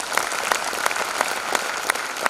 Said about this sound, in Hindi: 2000 तालियां होना चाहिए इन लोगों के लिए